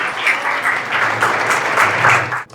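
Loud, close congregation applause in a church gathering, a dense continuous wash of clapping with some crowd murmur, cutting off sharply at the end.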